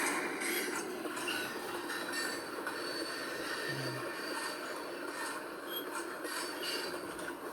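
A train departing the yard in Train and Rail Yard Simulator, with a caboose work car attached; a continuous low rumble of rolling stock with squealing wheels, steady and moderately distant throughout.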